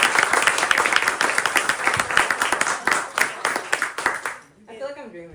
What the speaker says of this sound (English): let's give another big round of applause for the 2026 One Book, One New Orleans selections